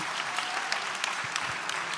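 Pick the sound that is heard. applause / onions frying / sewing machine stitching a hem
applause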